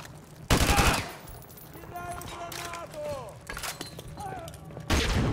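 AK rifle bursts in a Modern Warfare 2 Remastered campaign battle, loud cracks at the start and end of the clip with radio chatter and distant combat in between.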